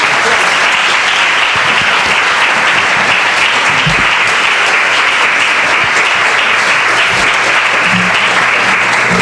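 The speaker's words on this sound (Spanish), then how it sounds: "despedimos al doctor Rodrigo Medellín con un fuerte aplauso" Audience applause for Dr. Rodrigo Medellín closing a lecture on the ecosystem services of bats; a dense, steady roar of clapping from a full room that holds loud and unbroken for the whole stretch, with no speech over it.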